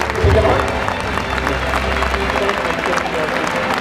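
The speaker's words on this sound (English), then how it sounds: "Have a huge round of applause." Steady, dense applause from a large crowd, loud and continuous, with cheering and chatter mixed in.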